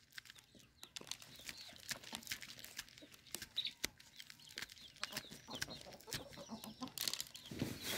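Backyard chickens cluck softly and repeatedly at close range, with rustling and pattering around them as corn is shelled for them, and no talk.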